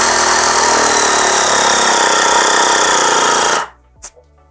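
AMIO Acomp-11 portable car air compressor running, a loud, close, rapid pulsing motor rattle that holds steady for over three seconds, then cuts off abruptly, followed by a couple of small clicks.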